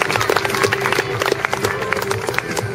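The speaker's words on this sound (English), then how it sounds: "Come on, give a big round of applause." A crowd applauds at a sheepdog trial at the Perth Royal Show, with dense, scattered clapping at moderate distance over a low outdoor background.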